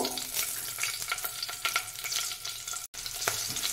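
Green chilies and black cumin (kalo jeere) sizzle loudly in hot oil while being stirred, a dense close crackle with repeated scraping strokes and a brief dropout.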